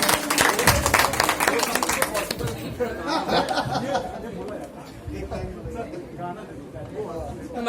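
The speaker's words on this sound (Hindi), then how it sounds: "जोरदार तालियां मनीष भैया के लिए" A crowd at a devotional bhajan gathering claps loudly and steadily for a singer, the dense applause gradually thinning into chatter and light laughter.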